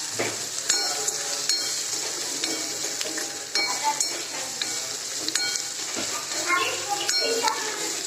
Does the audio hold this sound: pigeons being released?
no